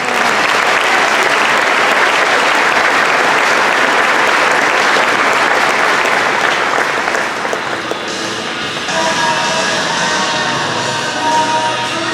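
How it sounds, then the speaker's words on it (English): Audience applause for graduates at a comprehensive school graduation ceremony: sustained, dense clapping from a large crowd filling the hall, steady and loud throughout with no talking. "Let's give them a round of applause."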